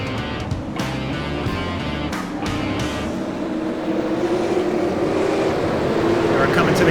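A Dodge Charger Super Late Model race car engine drones steadily at a short oval track, Martinsville Speedway, its pitch rising gradually as it builds speed, with a voice talking over the engine early on.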